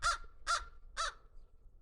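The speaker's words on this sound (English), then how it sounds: "So we got this rescue bird from last year, little Frankie the Crow" A rescued crow caws three times in an even rhythm, each call loud, harsh and close, with short silent gaps between them outdoors on a back deck.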